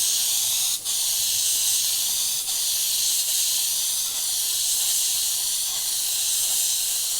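Steady airy hiss of an Iwata HP.TRN1 mini spray gun spraying indigo blue paint, continuous and fairly loud with a few brief dips as the trigger is worked, no talking.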